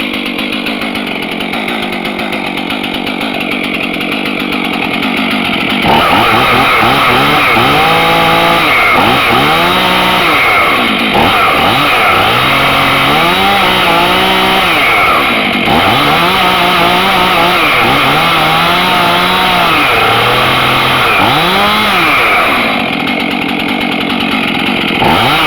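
Chainsaws cold starting on choke, then running with loud, steady two-stroke buzzing and repeated revving surges, close up with no talk.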